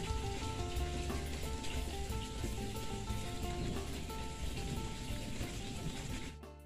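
Rain falling outdoors over a garden, a dense, steady hiss of drops that stays loud and even throughout before easing slightly at the very end, with no voices.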